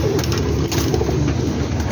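Teddy pigeons coo steadily in a low, throaty rumble, layered thickly over one another against a constant background hum.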